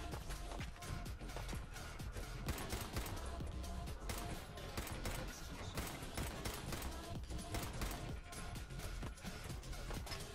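Gunfire in Fallout 4, dense rapid shots and impacts running continuously over busy game noise, with someone talking over it.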